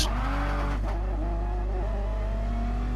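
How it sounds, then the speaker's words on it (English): Race car engines in a racing video game rev together at the race start, a loud sustained roar of several engines with rising pitch sweeps and a brief burst of tire noise, no talk. "Revving the engines, lights out."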